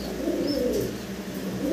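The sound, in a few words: fancy pigeons cooing, grizzle colour pair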